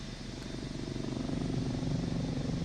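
The simulated 500C helicopter in Microsoft Flight Simulator 2024, cruising along the Colorado River, drones with a continuous engine hum and rotor throb that builds gently in loudness.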